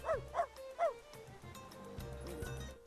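A dog in Final Fantasy XIII Lightning Returns gives three quick yipping barks, then softer whimpers and whines follow over a quiet game background.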